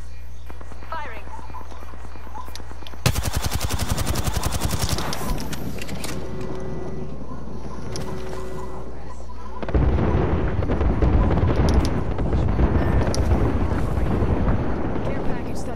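An artillery strike slams onto a marked position in a shooter game, starting with a rapid string of sharp impacts, then heavy rolling explosions and rumble, with voices and other game sounds mixed in.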